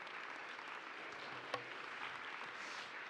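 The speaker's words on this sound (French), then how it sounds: "On peut l'applaudir." Soft, distant audience applause after a keynote talk at Paris Retail Week, a steady hiss of many hands clapping with one sharp near clap standing out.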